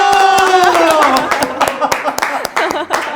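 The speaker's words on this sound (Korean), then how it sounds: "박수!" A small group of people clap in a short burst at an indoor gathering welcoming a mukbang guest, with sharp irregular claps under a voice and cheering at the start.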